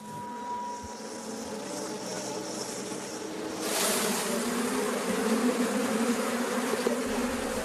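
Honey bees buzzing around their hives in rural Arcadia on Greece's Peloponnese, a steady insect hum that thickens and grows louder partway through, with no voices.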